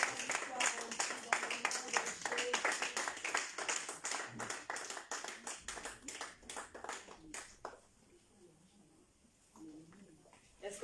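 Congregation at a church service clapping rapidly and steadily, dense and loud, with voices over it, before the clapping breaks off into a quieter stretch.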